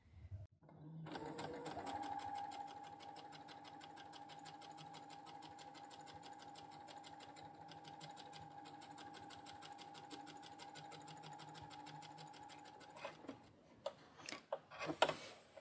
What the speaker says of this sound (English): you need to try and sew as straight as you can